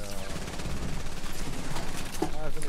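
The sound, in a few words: gunfire in a video game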